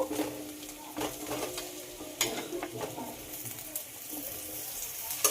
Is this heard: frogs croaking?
no